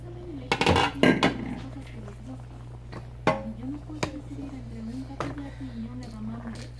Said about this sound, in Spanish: Ya pasaron 10 minutos. Lo voy a moverla un poco.